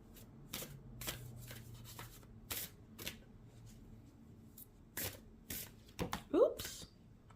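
A deck of Spirit of the Animals oracle cards is shuffled up close in quick riffling bursts with soft taps between them, and a voice is faintly audible in the room.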